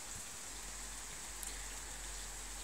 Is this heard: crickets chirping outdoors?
no